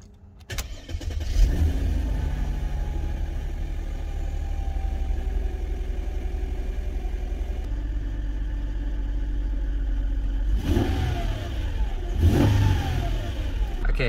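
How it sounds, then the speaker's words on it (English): Mercedes M112/M113 engine starting, then idling steadily with a low rumbling hum, followed near the end by a couple of short rev attempts that swell and fade, close and alone. "it starts vibration, the idle speed drops a bit, and if I step on gas pedal it hesitates for a few seconds"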